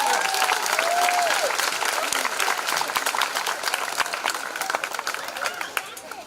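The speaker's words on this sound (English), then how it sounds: "Give them a round of applause." A graduation audience breaks into sustained applause, dense and steady clapping from a large crowd that tapers slightly toward the end, with a brief tonal voice-like sweep early on.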